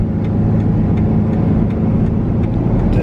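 A car driving at night, heard from inside: a steady, loud, low engine and road rumble that stays level throughout, with no talking.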